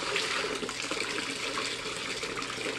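Warm herbal infusion is strained and poured into a basin of water for a foot soak, making a loud, continuous splashing stream close by that runs unbroken throughout, with no talking.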